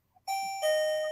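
A two-note ding-dong doorbell chime rings once indoors, clear and fairly loud, the second tone sustaining and fading.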